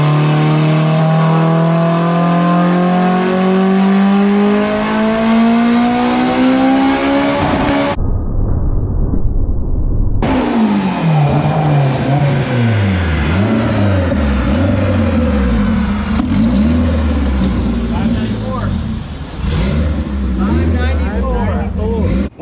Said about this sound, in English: strap your little hot rod race car down to a dyno